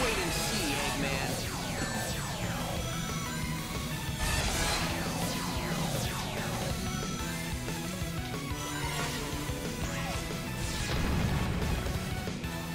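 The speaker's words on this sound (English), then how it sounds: "Just smashes through fucking asteroids like it's nothing." Sonic smashes through asteroids in a video game, a dense, continuous stream of crashing impacts and bursts layered over busy game music with sweeping tones, loud and sustained throughout.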